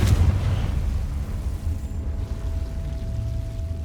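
A Confringo blasting spell goes off in Hogwarts Legacy, a loud, deep explosive boom that hits at once and then rumbles on as a heavy low roar through the whole moment, with no talking.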